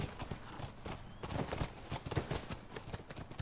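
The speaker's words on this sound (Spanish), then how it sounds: "Ahora sí que aparecen solo los caballos y ahora vienen solo los caballitos." Horses' hooves clip-clop in a steady, uneven patter in The Last of Us Remastered, moderately close with several animals moving together, over a soft outdoor ambience with no talking.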